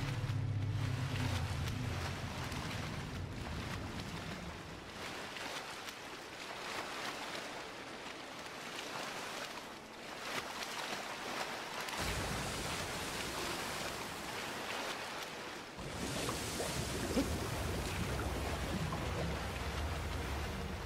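Ocean waves and water rush from the video game Shadow of the Colossus, a steady, faint wash of surf noise that swells and shifts in texture over about twenty seconds, with no talk.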